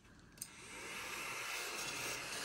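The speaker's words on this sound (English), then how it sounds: "desk vacuum, so it's gonna be loud." A small USB desk vacuum starts up and settles into a steady, high-pitched whirring hum, close and fairly loud, running continuously without voices.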